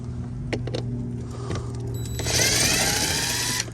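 A DeWalt impact driver loosens a bolt on a 2021 Chevy door, whirring in a rapid, rattling burst of hammering near the end, after scattered clicks and handling.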